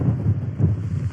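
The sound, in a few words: strong wind blowing at a tent campsite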